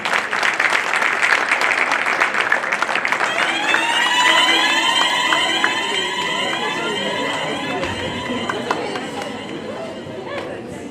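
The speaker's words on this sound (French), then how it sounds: "On applaudit les deux équipes." An audience claps for both teams at a school general-knowledge quiz tournament at the end of the first half. A dense burst of applause fills the opening seconds, then gives way to ringing, sweeping tonal sounds over a lingering crowd murmur.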